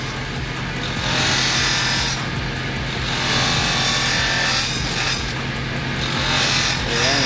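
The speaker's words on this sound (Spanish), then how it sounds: "vean cómo le está dando le está quitando las esquinas, por decir, para ya prepararla para lo que es el pulido" A power tool grinds the corners off a piece of obsidian in a stone workshop, a loud continuous abrasive whine that swells and eases in waves as the piece is worked, with no speech.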